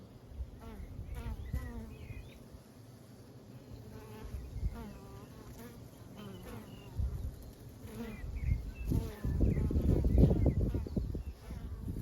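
Bees buzz around a hive on a cool spring evening, a steady insect drone under outdoor ambience that swells louder toward the end, with a voice speaking faintly at times.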